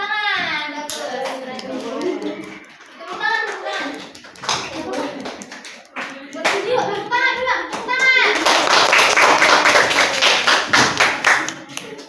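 Classroom of children clapping together when asked to applaud, with scattered taps and thuds; the clapping swells into a dense, loud burst near the end while young voices and an adult talk over the first part.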